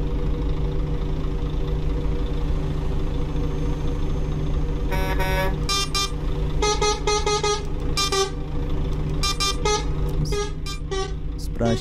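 Truck and bus horns honking in Euro Truck Simulator 2 on a road in Goiás, with a Marcopolo G8 bus in play, sounding in repeated bursts of varied length over a steady engine drone, some short toots and some longer blasts.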